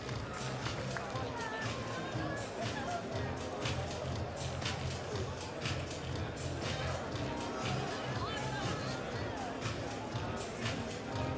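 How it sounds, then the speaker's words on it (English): A large crowd filing out of the PlayStation Experience 2015 keynote hall, a dense continuous babble of voices and shuffling footsteps filling the space with steady, loud hubbub. "The crowd is filing out now"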